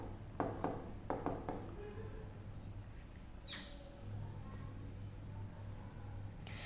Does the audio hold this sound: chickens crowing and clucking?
no